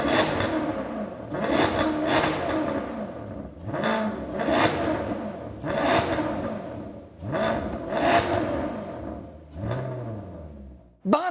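A Maserati GranTurismo with the 4.7 engine and a gated 6-speed manual conversion roars through a series of loud, close revs, about five rising and falling surges, each building then dropping back before the next.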